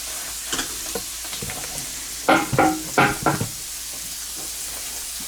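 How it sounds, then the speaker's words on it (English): Raw carrots cook in a pan with a soft, steady sizzle, broken by a few clattering stirs and knocks of a utensil in the middle, close and moderately loud. "The carrots are raw, so right now we're just cooking them."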